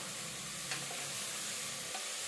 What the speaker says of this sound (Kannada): ಈರುಳ್ಳಿ ಟೊಮೊಟೊ ಫ್ರೈ ಆಗಿದೆ ಇವಾಗ ಕಾಳು ಹಾಕಿ ಫ್ರೈ ಮಾಡ್ಕೋತಾ ಇದ್ದೀನಿ